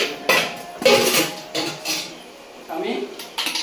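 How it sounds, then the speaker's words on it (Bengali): A metal lid goes onto a cooking pot of fish, giving a few close clinks and clattering knocks against the rim amid kitchen bustle, with some talking nearby. "ঢাকা দিই"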